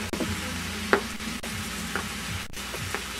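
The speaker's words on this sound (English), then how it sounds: "And make sure you stir the cabbage" Curry cabbage sizzles steadily in a hot pan while a spoon stirs it, giving soft repeated scraping strokes about every half second over a constant close frying hiss.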